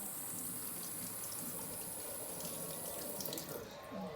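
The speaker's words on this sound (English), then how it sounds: "rinse it with tap water" Tap water runs steadily from a lab faucet into a sink while a stained E. coli slide is rinsed, a close, continuous splashing flow throughout.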